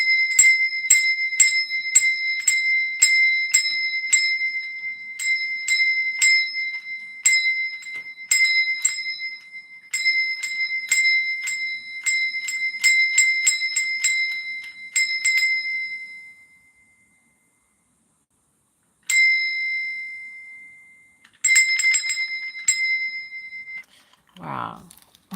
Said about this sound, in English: There's going to be a loud bell.